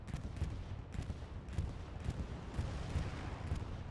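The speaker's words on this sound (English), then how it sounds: "FSG with a beautiful last-minute bombing run" Bombing-run explosions in the military shooter game Squad thud and crackle in quick repeated bursts, each blast fairly distant and muffled, with no voices over them.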